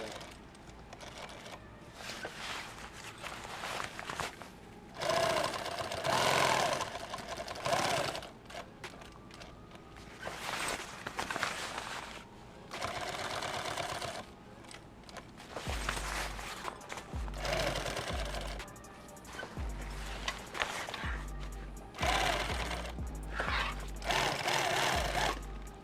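A sewing machine stitches a kit bag in repeated loud bursts of rapid mechanical chatter, separated by brief pauses, close up.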